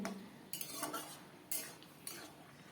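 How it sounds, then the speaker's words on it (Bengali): A spatula scrapes and knocks against a pan as taro leaves are stir-fried with salt, giving a few distinct metallic scraping strokes over a faint background. "এটাকে ভালো করে কষিয়ে নিতে হবে"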